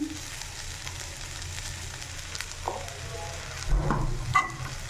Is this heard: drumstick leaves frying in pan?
yes